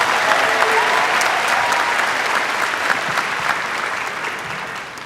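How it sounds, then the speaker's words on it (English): A large crowd at a high school graduation ceremony applauds the staff, producing a loud, sustained, dense roar of clapping that holds steady and eases off only slightly. "we can give a round of applause for Cable Dahmer and the Raytown South High staff"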